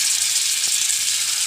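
Fish, mullan and manthal, frying in hot oil in a pan, giving a steady, close hiss with faint crackle and no pause across the moment.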